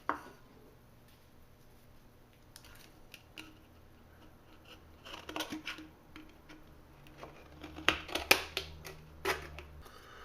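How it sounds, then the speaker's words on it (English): Scissors cutting an aluminium beer can in half, with scattered snips and crinkly metallic crunches that grow louder and denser toward the end, close by with no talk. "The first thing you will need to do is to cut the can in half."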